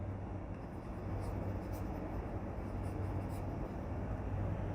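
Marker writing on a board during a biology lesson, faint intermittent squeaks and scratches over a steady low background hum.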